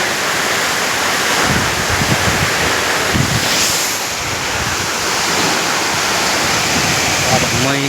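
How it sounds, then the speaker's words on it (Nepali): Mohini waterfall at Markhu, Nepal, pours in a loud, steady rushing roar that stays constant throughout, close and unbroken. "मार्कुको मोहिनी झरना"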